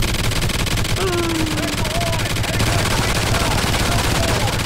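An automated turret gun in Call of Duty Ghosts Extinction fires in a fast, unbroken stream, loud and close, with faint whining tones sweeping over the rapid fire.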